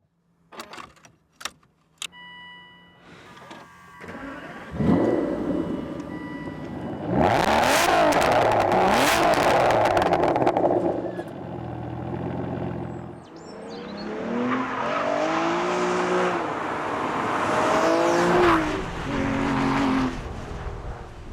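An Aston Martin DBS on the road, its engine idling low before rising into loud, sustained revving runs under acceleration, easing briefly, then pulling hard again with throaty gear-by-gear surges, close and continuous.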